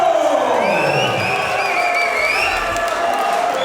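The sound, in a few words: crowd roaring and cheering at MMA fight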